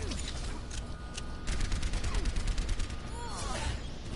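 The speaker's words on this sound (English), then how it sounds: "Rocket barrage incoming." A rocket barrage in a video game, rendered as a dense, continuous roar of rapid explosive fire with mechanical clatter and whooshing streaks, growing louder midway and staying busy throughout.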